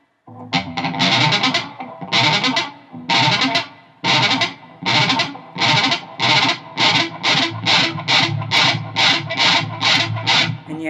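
Distorted electric guitar playing sweep-picked arpeggios with right-hand string muting, loud and close, in a steady run of clipped, evenly spaced bursts that quicken toward the end, with no talking.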